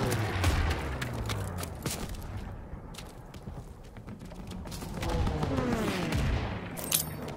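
A flak gun fires at Stuka dive bombers during Operation Cobra in Call of Duty WWII, letting off loud, rapid bursts of shots. Aircraft engines drone in the background as the firing continues.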